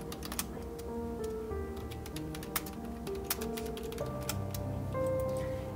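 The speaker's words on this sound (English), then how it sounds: "Yeah, so I'll be typing." Soft keyboard typing heard close up, with irregular light taps that cluster into short bursts and sit under faint background tones.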